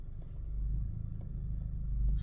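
An Acura Integra A-Spec engine pulls away slowly in first gear with a manual transmission, giving a low, steady rumble that grows a little louder as the car creeps forward.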